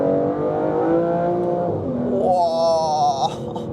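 A 2025 Aston Martin Vanquish with a twin-turbo V12 pulls hard from inside the cabin, engine note rising through the revs, dipping at a gear change, then climbing sharply again before easing off.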